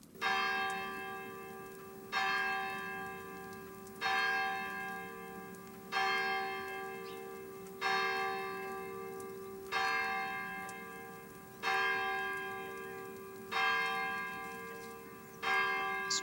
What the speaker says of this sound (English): Suddenly, as they stood together in an open place, the bell struck 12.